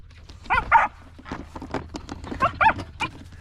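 Dog Bella barks in two sharp paired bursts, close and loud, while trying to break into a cage, with rustling and faint movement between barks.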